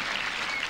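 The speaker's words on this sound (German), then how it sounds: "Und das Publikum versucht, Boris Becker zu helfen" A tennis crowd at the 1995 ATP Hamburg match between Yzaga and Becker claps and cheers, a dense and steady wash of applause filling the short moment.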